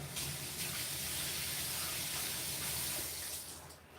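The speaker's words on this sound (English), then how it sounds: "Wash your hands. Dry them on your towel." Water runs from a faucet into a sink for handwashing in a pizza-making video game, a steady close rushing hiss that tapers off near the end, with no talk.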